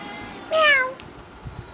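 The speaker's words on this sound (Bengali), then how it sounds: "এই যে আবার এখানে একটা বিড়ালও আছে।" A single short, clear cat meow rises over a quiet background, with faint rustling afterward.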